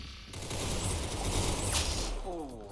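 A Mosin rifle fires in the Roblox shooter Arsenal, a loud blast that booms and rumbles on for about two seconds, then fades under a brief voice.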